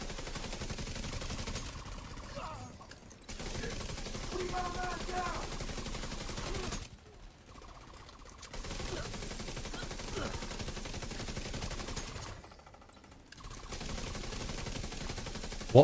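Turret fire in the video game The Division 2, sustained bursts of rapid automatic gunfire broken by short pauses, with game noise around it.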